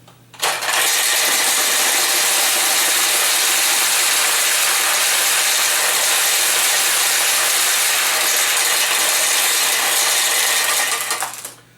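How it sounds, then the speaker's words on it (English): A Nishijin pachinko machine releases its stored metal balls into the tray below in a loud, continuous rattling rush that lasts about eleven seconds before cutting off. "all the balls up here will roll out into your little tray down here."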